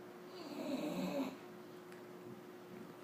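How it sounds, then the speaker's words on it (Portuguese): A person snores loudly and close by, one long rasping snore in the first second or so, then quieter breathing and room noise. "Olha o ronco."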